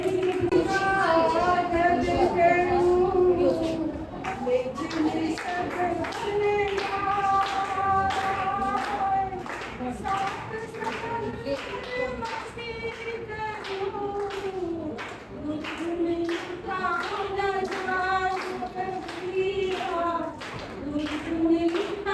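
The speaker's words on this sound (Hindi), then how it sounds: "यहाँ बैठा हुआ हर बच्चा एक बार मेरे गुरुओं के लिए ताली बजाए।" Children clap for their teachers at a school Teachers Day program, a steady patter of applause running the whole time beneath voices and chatter.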